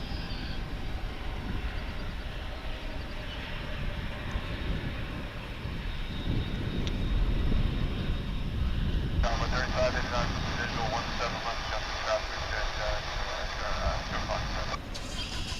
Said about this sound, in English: what you're seeing here, making the big turn, is an American Dreamliner on its way to Honolulu.